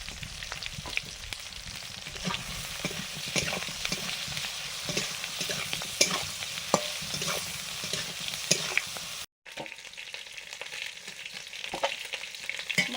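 Shol fish frying in a pan sizzles loudly and steadily up close, with occasional scraping and stirring clicks and a brief cut near the end, and no voices.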